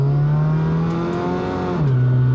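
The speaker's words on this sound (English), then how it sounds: "So anyway, we'll give it some gas here." Engine revving up under throttle in a car fitted with a Toyota A340E automatic transmission under DIY Speeduino controller, a steady loud drone rising slightly in pitch then dropping, running alone without talk.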